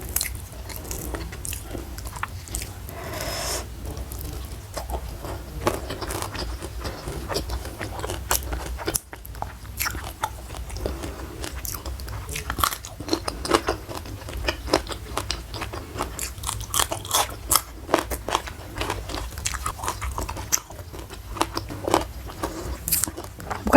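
Mukbang-style eating of salted fish with sambal goang and stir-fried water spinach, with steady close biting, crunching and chewing sounds running continuously and no talk.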